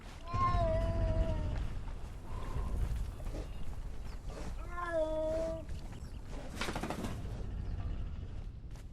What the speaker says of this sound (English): That cat.